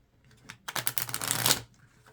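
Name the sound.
shuffling tarot cards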